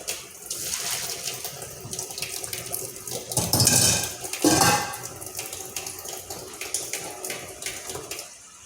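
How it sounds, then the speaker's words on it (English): Cooked bucatini pasta being strained, with water pouring and splashing into a sink for several seconds, swelling loudest in two bursts near the middle before settling into a steady trickle. "Now we're going to strain the bucatini pasta."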